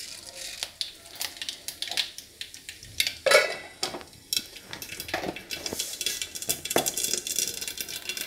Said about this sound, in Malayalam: ചട്ടിനൊന്ന് കടുക് വറുക്കുകയാണ്.